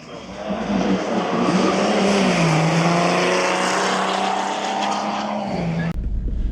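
Volkswagen Passat with a DSG gearbox driven hard on a race track, the engine roaring steadily with tyre noise and rising, shifting engine pitch, heard from inside the car before an abrupt cut.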